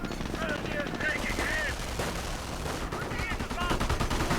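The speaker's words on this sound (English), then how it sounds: "Fultz guns coming under heavy fire" Heavy, sustained machine-gun and rifle fire in a 1v1 strategy video game battle rattles densely and loudly throughout, mixed with shouting voices and other battle noise.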